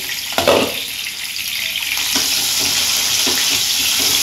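Potatoes frying lightly in oil in a pan for a Bengali home-cooked meal, with a steady loud hiss and sizzle and a couple of soft stirring knocks near the start.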